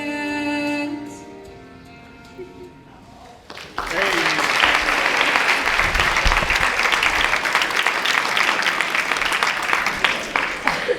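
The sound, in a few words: audience applause after song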